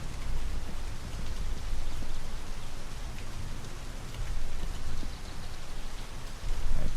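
Steady rain pours down in the video game My Summer Car, a dense even hiss of drops on surfaces with soft low rumble, continuous and fairly loud with no voices.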